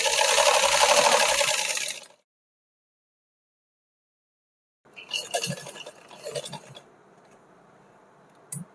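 A sewing machine stitching a kameez runs in a fast whirring burst, stops into silence, then resumes with uneven bursts of clicking and rattling as the fabric is adjusted, close and moderately loud.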